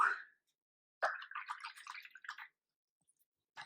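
A watercolor brush swished in a water pot, a short splash followed by about a second and a half of soft sloshing and dripping, quiet and close with silent gaps around it.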